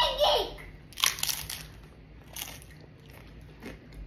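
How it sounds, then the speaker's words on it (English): Close, quiet crunching bites and chewing of Mexican food with an Indian twist, shared at a family meal. A few crisp bites come at irregular intervals. "Let's take a bite."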